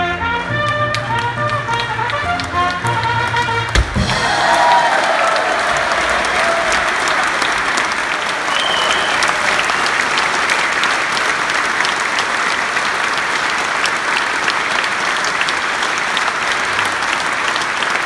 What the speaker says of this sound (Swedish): En stor applåd till Gislaveds Symphony Orchestra.